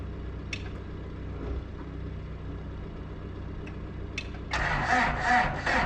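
Old Komatsu engine on a smoky, hard-breathing digger churning low and rough, then catching with a sudden louder roar near the end, close by and with no voices.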